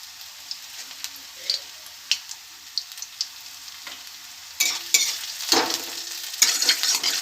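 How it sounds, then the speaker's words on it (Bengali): Garlic and fenugreek greens fry in hot mustard oil in a kadai as a utensil stirs them, giving light scraping clinks at first, then a louder burst of crackling sizzle that keeps going to the end. "তো ভালো করে চারিদিকটা একটু নামিয়ে নেবো যেন লেগে না যায়"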